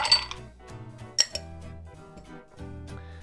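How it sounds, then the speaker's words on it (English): Ice cubes dropped into a gin gimlet cocktail, giving a few close, bright clinks against the glass, with one sharp knock partway through and soft rattling as the ice settles. "we're gonna throw in our ice"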